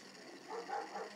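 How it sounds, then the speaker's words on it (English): A dog barks several times in a quick cluster, a little way off in a quiet outdoor garden, with no other sound around it. "They heard Susie barking, but she's out the back garden."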